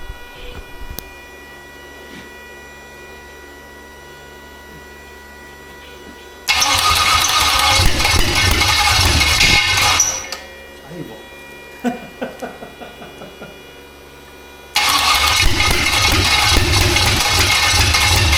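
A fire-damaged 6-litre LS V8 roars into two loud bursts of running and revving, each lasting several seconds, separated by a quieter stretch of idle clatter and shop noise.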